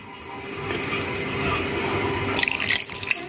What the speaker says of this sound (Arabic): انا حطيت اهي الشوربه بتاعتي، ظبطتها في الحله